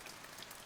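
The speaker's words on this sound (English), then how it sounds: "rainfall" Steady rainfall, a dense, even hiss of drops striking a surface at a constant, moderate level, with no voices.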